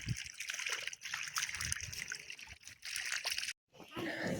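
Water running from a pillar tap in a farm field, an uneven trickling and splashing stream with brief gaps, heard close up while voices chatter over it.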